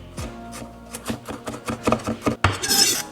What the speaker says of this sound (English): So first we're gonna start by slicing up our garlic.